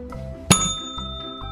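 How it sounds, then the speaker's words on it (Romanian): A small push bell on an obstacle course is struck once, giving a bright ding that rings on and fades over a second, clear above a quiet background. "Apăsăm acest clopoțel."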